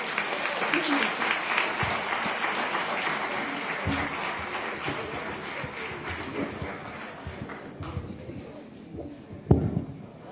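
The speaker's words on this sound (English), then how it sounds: "we want to ask everybody to give a round of applause to Mayor Lightfoot for her hard work" A room full of people applauds at a Dolton village press event after Mayor Lightfoot's investigation findings, moderately loud clapping that gradually thins out, with a sharp knock near the end.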